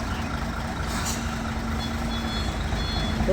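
A truck's reversing alarm beeps steadily over a loud, rumbling diesel engine, close by, with no talking.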